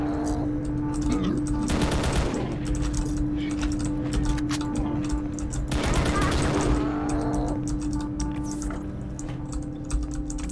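Gunfire in a Half-Life and DOOM crossover mod, with two long bursts of rapid, clattering automatic shots separated by quieter stretches of game sound, steady and loud throughout.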